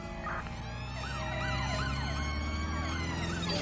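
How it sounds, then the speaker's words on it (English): An ambulance siren wails in the video game Watch Dogs Legion, sweeping up and down steadily and loudly over a low engine rumble, with no voices over it. "Requesting ambulance at our location, over."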